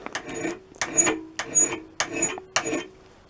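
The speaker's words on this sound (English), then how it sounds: "So it basically can use this just like a file." Repeated rasping strokes of a metal file against a screwdriver tip during sharpening, five distinct scrapes in a steady rhythm with short pauses between, close and moderately loud.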